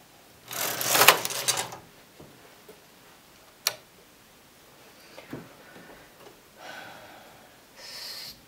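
A domestic knitting machine knits a row of white angora yarn: one loud, rapid rattling sweep of the carriage for about a second, then scattered clicks and softer mechanical rustles, close and without talk.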